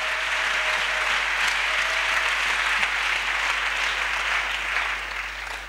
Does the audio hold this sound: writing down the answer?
no